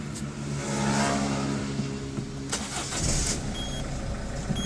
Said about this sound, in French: Je vais allumer le moteur.